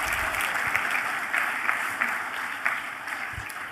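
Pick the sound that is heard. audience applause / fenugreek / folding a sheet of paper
audience applause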